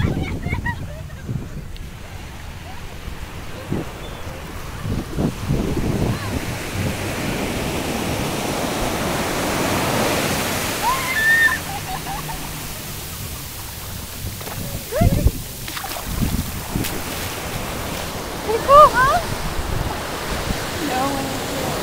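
Ocean surf washes onto a beach in a steady broadband roar with rising and falling swells, wind mixed in, and a voice speaking briefly at times over it.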